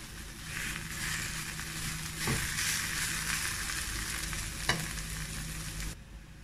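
Cauliflower sizzling in a pan with garlic and butter, a steady close hiss broken by two sharp stirring knocks before it cuts off abruptly.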